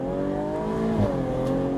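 A 2014 Jaguar F-Type engine hums steadily with a rich, low exhaust note through opened exhaust baffles that swells briefly midway, close and continuous with no talking.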